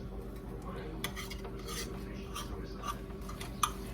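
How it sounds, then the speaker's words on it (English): A vegan egg mixture being scrambled in a pan, with a spatula or utensil stirring and scraping in steady rhythm, a few sharper metallic clinks against the pan over a low background hum. "Scramble it. Let it cook a little bit."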